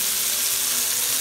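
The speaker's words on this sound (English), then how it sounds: "You can hear the sizzling of the Serrano ham and Costa Rican gold pineapple." Loud, dense sizzling of Serrano ham and gold pineapple frying in a hot pan, a continuous crackling hiss up close.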